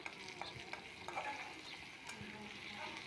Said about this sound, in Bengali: শুটকি দিয়ে আবার ভালোভাবে ভেজে নেব